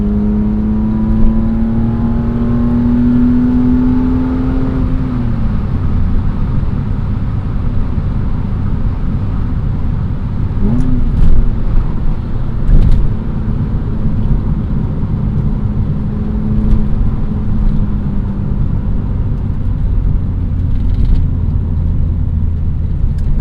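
A 1998 BMW M3 E36 with a lightweight flywheel revs and pulls while driving, engine note rising near and loud in the opening seconds, then settling into steady cabin drone with road noise and brief blips of throttle.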